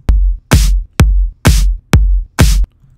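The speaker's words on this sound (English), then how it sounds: "you'll have a pre-shifted clap that sounds like this" Six loud, punchy claps from a pre-shifted clap sample in a steady, quick rhythm, each with a short burst of noisy attack and a fast decay, heard alone.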